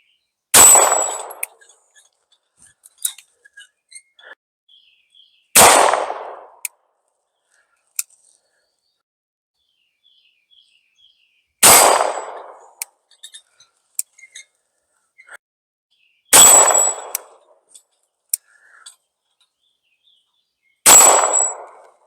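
Arex Zero 2 9mm handgun fired double action at a six-inch steel target: five loud, close shots spaced several seconds apart, each followed by a sharp metallic ring and small clinks in between.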